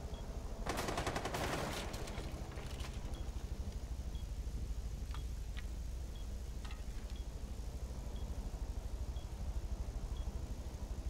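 In Rainbow Six Siege, a quick burst of automatic gunfire comes through a window, followed by a few scattered shots. The fire is fairly faint and distant against a steady background hum.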